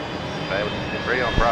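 A USAF C-17 transport's jet engines give a continuous roar at Brisbane Airport during its departure, with people talking close by over the engine noise.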